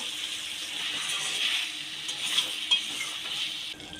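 Meat being stirred and sautéed in a pan with fried potatoes, giving a close, continuous sizzling hiss with a few light scrapes near the end, and no voices.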